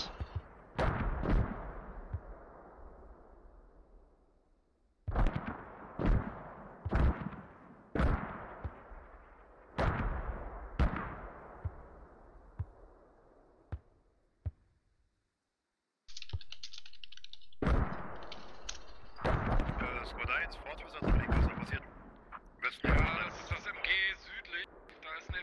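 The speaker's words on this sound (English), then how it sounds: "Some mortars going on, it's taking a couple of guys out." Mortar rounds fire and explode in a military shooter game, with repeated sharp booms in irregular bursts whose rumbling tails fade between shots, a stretch of near silence midway, then further blasts.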